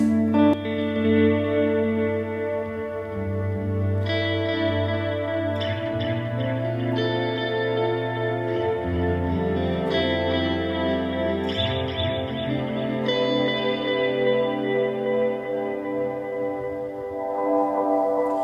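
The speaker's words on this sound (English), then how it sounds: "a clean sound, throw on some spring reverb-y stuff, a bit of delay stuff." A clean electric guitar plays sustained chords and notes drenched in springy reverb and echoing delay, with repeats trailing each change.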